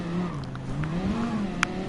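Race car engine in Gran Turismo Sport holding a steady, droning rev with a slowly wavering pitch, loud and continuous, with a brief sharp click near the end.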